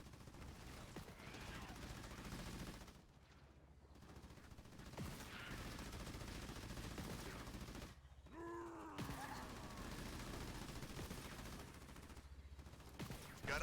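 Ground troops fire in Halo Wars 2, with rapid bursts of gunfire, fairly faint, broken by short pauses, and a brief voice-like tone in the middle.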